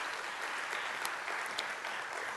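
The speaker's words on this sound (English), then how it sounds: "Let's have a round of applause for the team that makes this possible." A large alumni audience applauds Penn faculty and staff at a welcome address, with thick, even clapping throughout and a few sharper claps standing out. No one speaks over it.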